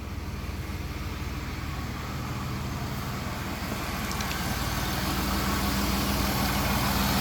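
A supercharged 3.8-litre 3800 V6 swapped into a 1993 Chevrolet Lumina Z34 idles steadily, its low engine drone holding close and even and rising slightly toward the end.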